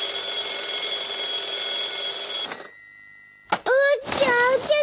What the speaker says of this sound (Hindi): जल्दी से उठ जाओ, अलार्म भी बज रहा है।